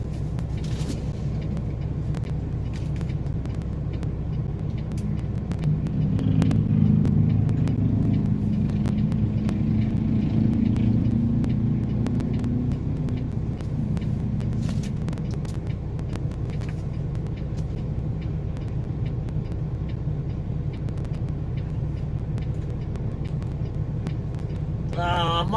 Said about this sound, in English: My truck is a Peterbilt 579, 2016 model.